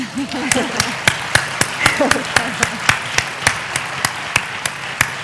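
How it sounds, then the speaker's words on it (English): Scattered applause from a modest audience at a women's health research symposium after a talk, a dozen or so sharp distinct claps over murmuring and a voice speaking underneath. "Let's clap for Erica first."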